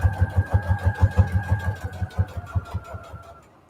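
A sewing machine stitching fabric scraps and embroidery pieces onto junk journal tags, running in a fast, even pulse of needle strokes that gradually slows and stops, close by with no talk.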